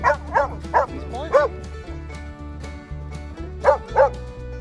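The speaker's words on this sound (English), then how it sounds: "Yeah, that's Bud. He's barking." A nearby dog outdoors in snow lets out a run of four quick barks, falls quiet, then barks twice more over a low droning hum.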